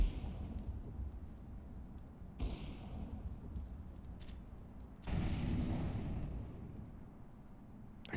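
Grenade blasts in a Counter-Strike match on the Vertigo map during a tournament broadcast: a sharp burst near 2.4 seconds and a louder, sustained rumbling detonation from about 5 seconds, over low ambient game noise.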